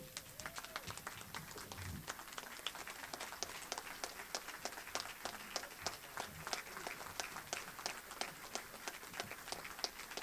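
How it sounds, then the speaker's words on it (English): Broad applause fills an event hall at a Saints Hall of Fame induction honoring Devery Henderson, a dense, steady wash of many hands clapping with sharp individual claps standing out, sustained at moderate distance with no voices over it. "Y'all got to give this guy a round of applause."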